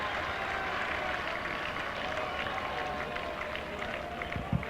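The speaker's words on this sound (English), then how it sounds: "They'll get him a 4, and a lot of cheer from the crowd." Cricket crowd at a 2003 ICC Cricket World Cup match between the Netherlands and Pakistan cheering a boundary four, a broad, steady roar of a distant stadium crowd with a commentator talking over it.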